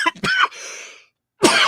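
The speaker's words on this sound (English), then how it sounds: "Pardon my cough." Several quick, harsh coughs in a burst, close and loud, then a short silence before another cough.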